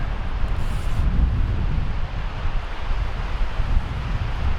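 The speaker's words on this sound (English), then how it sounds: "I have a little bit of wind to deal with here tonight too." Wind blowing beside a river while fly fishing in the evening, a continuous low rush and buffeting on the microphone with no talk.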